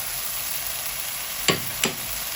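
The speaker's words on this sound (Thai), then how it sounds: "จะเอาเนื้อปลาลง ค่ะ" Fish meat goes into a hot stir-fry pan: a steady, close sizzle of frying throughout, broken by two brief clatters as the pieces are dropped in, with no speech.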